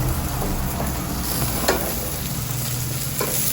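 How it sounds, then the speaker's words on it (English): Meat sizzles steadily in a hot pan right after being turned and flipped, a close continuous frying hiss with a few faint clicks and scrapes, no voices. "I'm gonna turn it and flip it this time."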